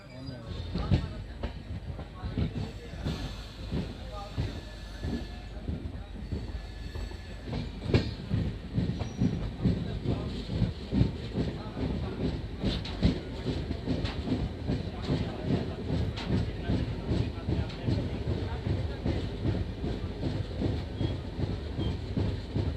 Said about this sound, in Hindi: हमारी ट्रेन डिपार्ट कर रही है धोन जंक्शन से